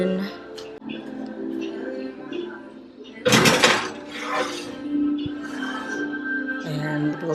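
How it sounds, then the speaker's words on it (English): A monkey bread pan slides into a home oven with a loud metallic clatter and rattle of racks and door, one brief burst standing out amid background music and speech. "Okay, so now I'm gonna put them in the oven."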